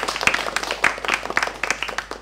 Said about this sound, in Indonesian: Sekali lagi dong kita minta tepuk tangan untuk teman-teman semua yang hadir